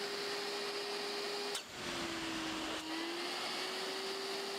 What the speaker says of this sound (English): run a full air pulse cleaning cycle to restore maximum airflow